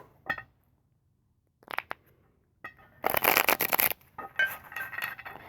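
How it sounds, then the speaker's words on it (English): Cards riffle and shuffle in short bursts separated by silence, one long loud riffle in the middle, close and crisp. "let me just start by shuffling properly"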